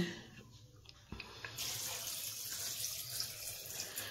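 Water pours from a tap into a pot of peas soaked for six hours with salt, ready for boiling for ghugni, a steady close splashing stream that grows louder partway through.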